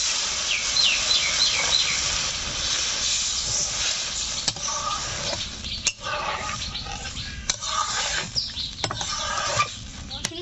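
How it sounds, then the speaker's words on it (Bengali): Fish curry broth with potato and cauliflower at a rolling boil in a pot, giving a continuous bubbling hiss with scattered pops and a few clinks, close by and fairly loud. "ঝোল ফুটতে শুরু করে দিয়েছে"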